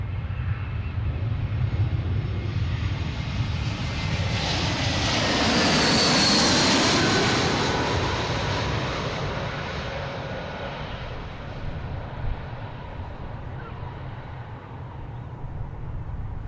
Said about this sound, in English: Got a JetBlue behind American Airlines A319 coming in from Reagan.